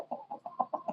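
Hens at a farm watering station give a quick run of soft, rhythmic clucks, about six short pulses close by and fairly quiet.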